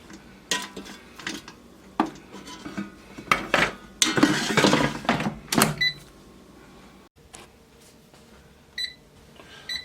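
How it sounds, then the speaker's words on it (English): Burger patties are set down into a Powers XL air fryer basket, giving a series of close clanks, taps and metallic rattles, with one louder clattering burst midway and faint beeps near the end. "And then I carefully place them in the air fryer, making sure to leave the most amount allowable airspace in between."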